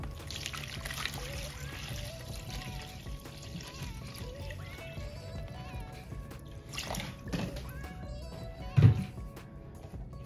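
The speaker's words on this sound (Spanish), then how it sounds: "Voy a echar agua buena que tengo yo ahí." Clean water poured from a source into a random clean container, a steady trickling pour running throughout at moderate level, with a brief louder splash near the end and faint background noise.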